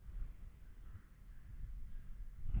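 Crows cawing over a cornfield where a flock gathers, harsh calls faint and scattered beneath steady outdoor background noise.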